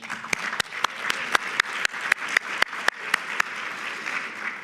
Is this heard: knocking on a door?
no